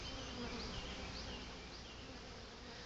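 Honeybees swarm at a hive entrance, a dense, continuous buzzing drone heard close and steady, with no voices.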